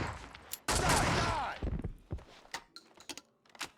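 Shotgun blasts in the video game Max Payne 2, one loud booming shot with a long ringing tail followed by several sharper, quieter shots and impacts in irregular succession.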